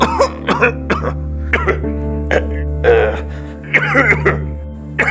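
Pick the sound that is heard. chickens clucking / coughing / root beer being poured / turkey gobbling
coughing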